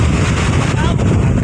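Fishing boats coming in on Manila Bay during a strong southwest monsoon, their engines a steady low rumble buried in constant wind buffeting the microphone.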